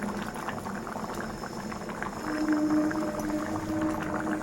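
Okra and prawn tamarind stew bubbling steadily in a pot, a close, continuous simmering boil with soft popping bursts that grow slightly louder partway through.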